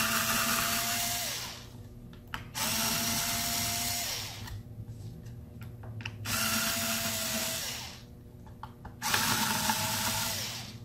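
A power screwdriver removes screws from a Lenovo 330S laptop, four separate loud whirring runs of about two seconds each, with brief quiet gaps between them, close up and without speech.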